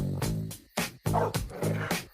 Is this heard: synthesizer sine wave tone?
no